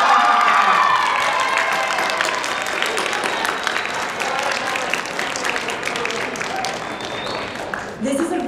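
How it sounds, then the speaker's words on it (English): An audience at a school poetry recitation competition gives a round of applause, dense steady clapping with some cheering and children's shouts, sustained for several seconds before thinning out near the end. "Can everyone just give them a great round of applause?"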